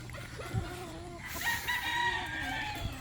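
Roosters crow and cluck at a gamefowl breeding and conditioning farm, several drawn-out crows overlapping with short clucks, moderately near over a low background hum.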